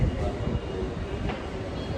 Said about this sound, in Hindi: इसका मतलब मेट्रो आ गई है, पास में ही है।